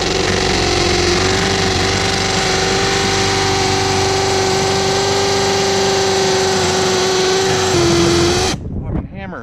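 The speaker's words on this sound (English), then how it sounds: "Oh, I'm in hammer drill mode." A power drill runs in hammer drill mode from a ladder during basement leak repair work, a loud, steady whirring rattle that runs for about eight seconds before cutting off abruptly.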